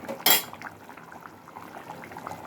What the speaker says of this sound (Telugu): ఇప్పుడు కొంచెం ఉడుకు పట్టింది, ఇంక నీరంతా డ్రై అవ్వాలి